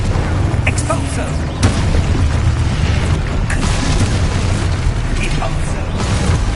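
Spell explosions in a video game: a continuous boomy roar with repeated bursts and pops, while a voice shouts spell names over it.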